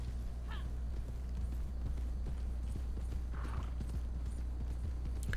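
Horse hooves clip-clop steadily in the video game Red Dead Online, a continuous trotting rhythm close by with a faint whinny near the start.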